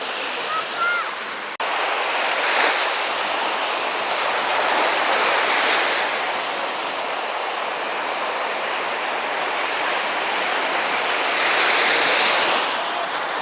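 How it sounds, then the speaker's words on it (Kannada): Sea waves roll onto Tannirbhavi Blue Flag beach in Mangaluru as a loud, continuous surf wash that swells and recedes in slow surges, with a brief voice at the start. "ಕೇಳಿಸ್ತಾ ಇದೆಯಾ ಸಮುದ್ರದ ಅಲೆಯ ಹೊಡೆತ?"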